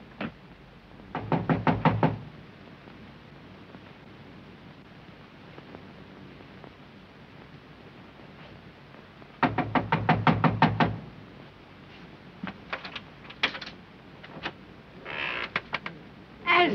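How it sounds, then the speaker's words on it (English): Rapid bursts of knuckle knocks on a door in a 1933 comedy-drama film, two long rattling volleys several seconds apart, then scattered lighter knocks and thumps over a quiet hiss. "Knock on it."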